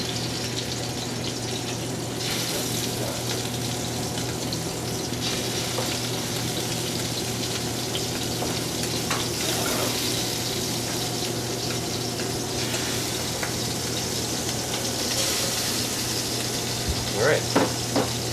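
Scallops searing in a hot pan, a steady loud sizzle with a constant background hum, close and continuous, with faint voices now and then.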